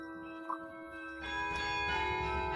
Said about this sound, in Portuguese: O dispositivo é chamado de carillon, um teclado conectado a dezenas de sinos para criar música.